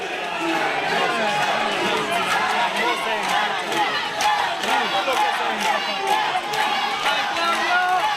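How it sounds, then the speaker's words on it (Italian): Boxing fans in the arena at an international title bout cheer and chant for their fighter, a loud, dense roar of shouting voices sustained throughout with rhythmic bursts. "Si fanno sentire anche i sostenitori di Lakatus."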